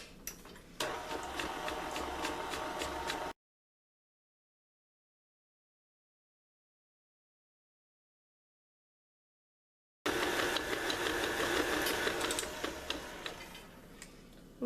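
Electric mixer beating chocolate chip cookie dough with pistachios in a bowl, a steady whirring drone in two stretches separated by a long silent gap, close and fairly loud.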